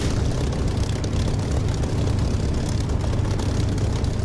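Loud, steady propeller aircraft engine roar during takeoff in the flight simulator DCS, a continuous low-heavy drone holding evenly throughout with no voices.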